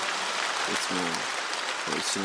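A church congregation applauds, the broad, hissy patter of clapping running steadily beneath a voice speaking over it.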